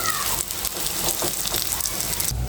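Small prawn and coconut fritters fry in soybean oil, giving a loud, dense, continuous sizzle with bubbling crackle close by and no speech over it.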